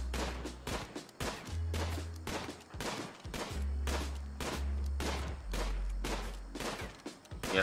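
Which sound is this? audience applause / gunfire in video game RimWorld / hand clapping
gunfire in video game RimWorld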